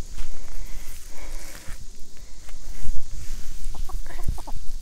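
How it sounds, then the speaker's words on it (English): A chicken clucks in short, repeated bursts close by, set against outdoor background noise and some faint shuffling footsteps. "Hello, chicken."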